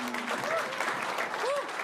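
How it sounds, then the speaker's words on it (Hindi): Audience applause at a comedy roast show, a brief burst of clapping at moderate level over a faint murmur of crowd voices. "एक बार जोरदार ताली यार"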